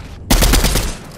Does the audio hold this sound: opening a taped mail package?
no